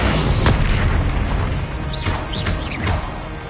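Confringo explosion spell cast in a Hogwarts video game, a loud booming blast followed by rumbling bursts and whooshing magical swishes, close and dense, with no voices.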